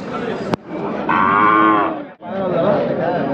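A bull at the Chakan cattle market gives one long, loud, close moo, preceded by a sharp knock and followed by crowd murmur.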